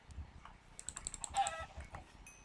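Faint Minecraft chicken clucks come through amid quick keyboard typing and clicks, the bird sounds thin and brief.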